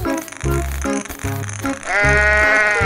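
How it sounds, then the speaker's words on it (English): A sheep bleating in a children's animal video, wavering bleats over a bouncy musical backing, loud and close. "Sheep."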